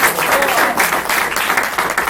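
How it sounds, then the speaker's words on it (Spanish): A church congregation applauds during a Spanish-language worship service, with steady, dense clapping that stays loud for about two seconds and a faint voice underneath. "Denle un aplauso a Cristo."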